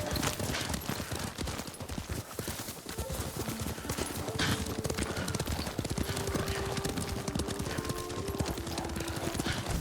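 Horse hooves clip-clopping at a steady trot during a ride in the video game Ghost of Tsushima, dense rhythmic thuds continuing throughout under a faint musical score, no talking.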